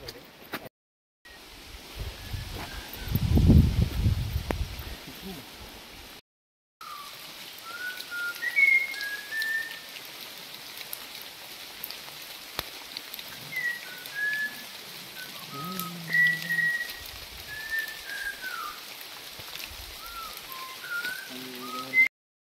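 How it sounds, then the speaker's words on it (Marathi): Heavy monsoon downpour at Mahuli fort, near a hilltop Shiva shrine and the fort's main gate: a steady, dense hiss of rain runs throughout, with scattered high whistle-like tones over it and a short gap of near silence early on. "धुवाधार पावसामध्ये आता शंकराच्या पिंडीचं आपण दर्शन घेणार आहोत"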